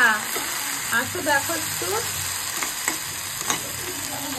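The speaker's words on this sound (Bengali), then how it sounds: "এদিকে পাট শাকটা সুন্দর করে ভাজা করে নেব।" Jute leaves fry in a pan with a bright continuous sizzle and occasional stirring scrapes, close and loud, while a voice briefly speaks over the start.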